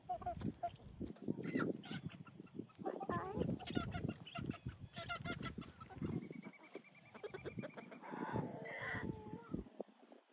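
Chickens cluck and murmur close by amid rustling and shuffling, with a higher trilling call near the end.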